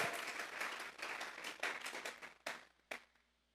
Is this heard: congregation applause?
yes